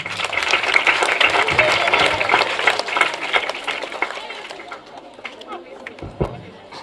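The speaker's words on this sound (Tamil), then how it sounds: "சோ உங்களுக்கே நீங்க ஒரு கைத்தட்டல் கொடுத்துக்கலாம்" Students applaud at a scholarship award ceremony in Perumbakkam, a dense patter of many hands clapping close by, mixed with crowd chatter, thinning toward the end.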